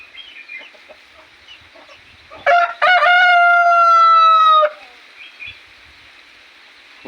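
A rooster and a hen dust-bathing in soil: the rooster lets out one loud, close crow lasting about two seconds, with soft clucks and scratchy rustling before and after it.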